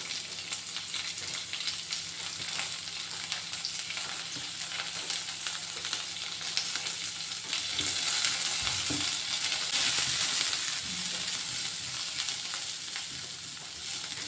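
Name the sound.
dry-roasting coconut and spices in a pan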